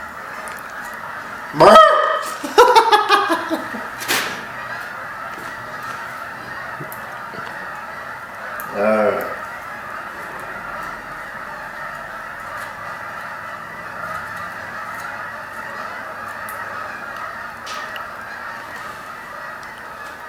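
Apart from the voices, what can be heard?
geese honking while flying over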